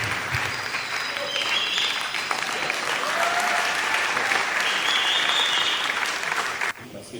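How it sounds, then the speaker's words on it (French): Sustained applause from a large festival audience at a European film festival event in the DRC, loud and dense throughout with a few cheers, dropping off abruptly near the end. "Est-ce qu'on peut applaudir?"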